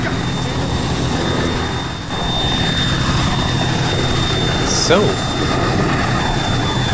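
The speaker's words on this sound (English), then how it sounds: "Let's wait for the helicopter's engine to die down" A helicopter engine in the Arma 3 video game runs with a steady, loud whine and rotor roar. A voice briefly speaks over it.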